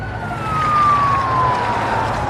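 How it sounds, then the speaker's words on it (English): A police siren tone in a movie scene, a single steady wail that drifts slowly downward in pitch as it approaches, heard over a low rumbling background with no talk. "they hear sirens approaching"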